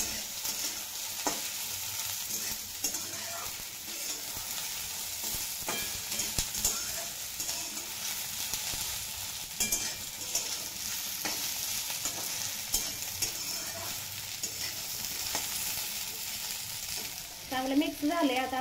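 Okra fries in a masala with a soft, continuous sizzle and hiss while a spoon stirs and scrapes the pan in irregular taps, growing busier near the end.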